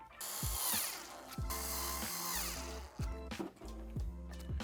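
A cordless power screwdriver whirs in short repeated bursts, driving screws into the stand of a Sansui 55-inch OLED TV, each run ending with a clunk, close and steady.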